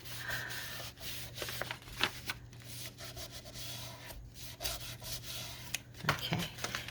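A dry wipe is pressed and rubbed across 12x12 scrapbook paper while making a flip-pocket journaling page. The scratchy rubbing is soft and continuous, steady at close range, with light rustles.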